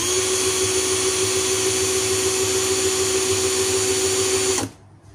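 An XTITAN 21V brushed 13mm cordless drill spins at speed setting 1 with a loud, steady high whine and motor hum, then stops abruptly near the end, leaving quiet room noise.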